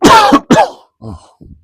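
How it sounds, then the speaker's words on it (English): A few coughs from one person in a cockpit setting during a simulated flight: two strong, close bursts followed by two softer, shorter ones, with no talk over them. "excuse the cough."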